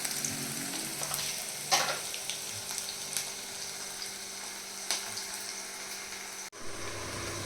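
Onions frying in a pan for an okra dish, a steady close sizzle with occasional stirring scrapes and clinks, no talking.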